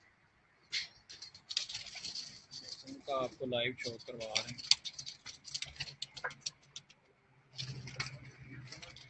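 Chinese breed pigeons on a breeder's rooftop coo in soft, repeated bursts, mixed with light ticking and fluttering, while people talk nearby.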